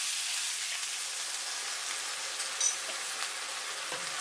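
Sweet and sour sauce sizzles steadily in a hot pan with pineapple and cherry tomatoes as it is stirred for a Chinese sweet and sour fish dish, a continuous fairly quiet hiss with faint scraping.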